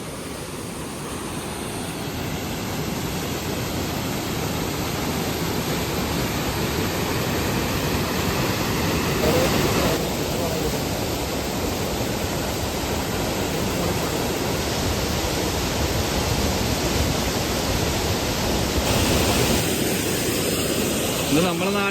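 Keralakund waterfall near Karuvarakundu in Kerala roars as a steady, dense rush of falling water, broad and unbroken from start to finish at a constant loud level.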